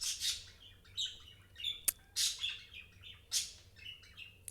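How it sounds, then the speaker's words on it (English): Pet birds indoors chirp and squawk in repeated bright bursts, with sharp calls and short squeaks spread across the stretch, fairly close and moderately loud against a quiet room. "Sorry, my birds are being annoying."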